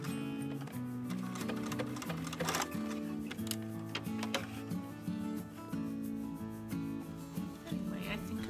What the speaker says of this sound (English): So I'm going to sew these on the sides now.